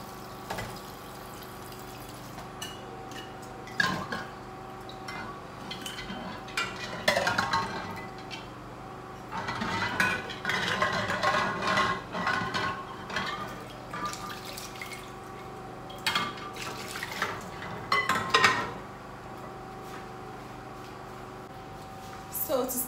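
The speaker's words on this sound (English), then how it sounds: "Mix some warm water that I'll use in rinsing the bottles" Glass bottles being rinsed with warm water by hand, with running and dripping water, sloshing, and scattered clinks and knocks of glass throughout, fairly close.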